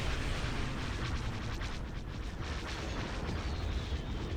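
Ion cannon fire in the Star Wars strategy game Awakening of the Rebellion, heard as a steady wash of rumbling blasts and mechanical booms, with faint repeated crackling pulses running through it.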